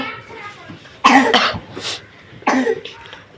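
Several sharp coughs burst out in two clusters, close and fairly loud, with quiet background noise between them.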